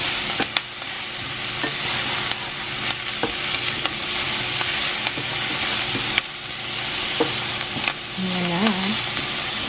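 Chopped onion and garlic sizzle and fry steadily in a hot pan, with stirring scrapes through the hiss; a few brief words are spoken near the end.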